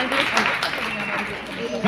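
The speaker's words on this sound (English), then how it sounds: "Big applause, round of applause." A summit audience claps in a dense, continuous wash of applause while a voice speaks over it.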